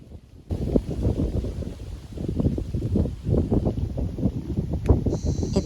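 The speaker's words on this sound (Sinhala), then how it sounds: "හුළඟ නම් තිබ්බා හොඳටම." Strong gusts of wind buffet the microphone in a Sri Lankan village corn field, a steady loud roar that surges and pulses in uneven waves for several seconds, with a faint high tone near the end.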